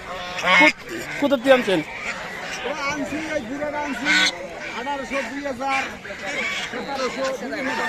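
Ducks quacking at a weekly market, repeated nasal quacks and honks in a steady stream close by, mixed with people talking over them.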